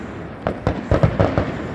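Christmas fireworks burst in a quick series of five or six sharp, booming pops, loud and close, each followed by a short crackling tail, with no one speaking over them.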